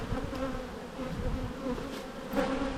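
Italian honey bees pouring out of an opened orange hive with fresh wax and comb, producing a dense, close, continuous buzzing hum with individual bees droning past.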